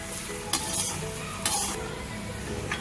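Onions sauté in a hot pan with a steady sizzle, broken by a few sharp scrapes of a spoon stirring against the metal, close and without talk.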